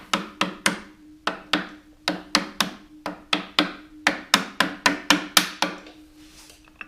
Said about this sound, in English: A little bit of soft-faced hammer persuasion won't hurt.